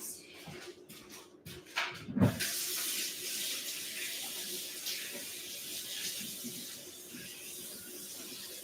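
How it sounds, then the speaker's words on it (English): A kitchen tap gushes steadily into a sink as hands are washed during a home baking session, the clatter of turning it on giving way to a loud, continuous stream. "Let me wash my hands."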